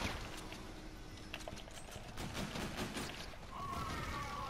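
Rapid gunfire from a pistol in a video game rattles in dense, continuous volleys with no talking over it.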